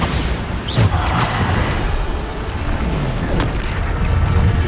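In Hogwarts Legacy, the Bombarda blasting spell lets off deep, rumbling booms amid dense, continuous combat noise, with a couple of sharper bursts standing out near and loud.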